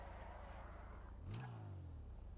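Dinka RT3000 sports car engine in GTA 5 Online revs up briefly near the middle of the moment, a rising rasp over steady low engine drone, with no one talking.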